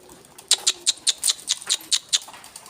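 Tumbler pigeons give a run of about a dozen quick, evenly spaced flapping bursts close by, each a short sharp clap against a quiet outdoor background.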